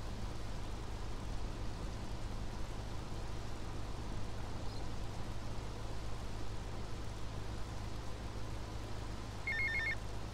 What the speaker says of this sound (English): So now we wait for some phone calls.